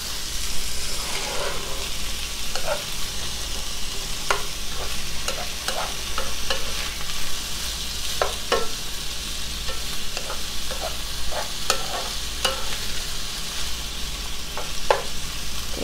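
Sausage and onions fry in a pan with a steady, close sizzle, broken by scattered sharp clicks and scrapes of a utensil stirring. No one speaks.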